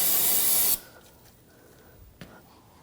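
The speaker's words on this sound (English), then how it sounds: "Use a little brake parts cleaner." A burst of brake parts cleaner sprays loudly onto a Volkswagen Jetta brake during a bleeding job, a steady aerosol hiss lasting under a second, then cut off, leaving a quiet garage with a couple of faint clicks.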